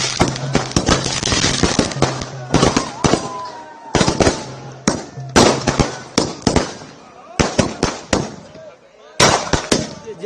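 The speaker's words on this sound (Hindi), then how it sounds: "पूरे गांव में हर तरफ पटाखा मिठाई फूट रही" Firecrackers and fireworks burst all through a village celebration, sharp cracks and pops coming in dense clusters with brief gaps. Excited voices are heard among the explosions.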